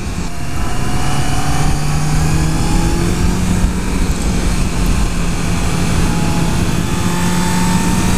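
Steady loud engine drone of a 2014 Honda CBR650F motorcycle on the move, with rising whining tones and heavy wind rush throughout, the engine pitch sweeping up between gear changes.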